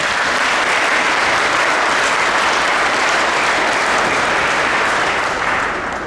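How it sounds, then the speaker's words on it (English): Dense, steady applause from an audience at a highway dedication honoring a sheriff, loud and continuous throughout with no pauses, tapering slightly at the very end. "So give yourself a round of applause."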